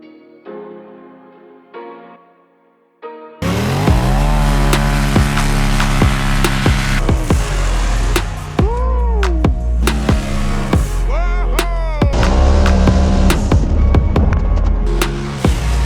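A powersports vehicle engine running an aftermarket Stage 3 tune on 93 octane revs hard and loud, its pitch climbing and dropping through repeated throttle blips after a quiet start, with no talk over it.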